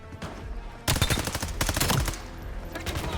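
Rapid gunfire bursts crackle loudly in the Black Ops 7 campaign, a dense volley of shots lasting about a second before trailing off into quieter game ambience.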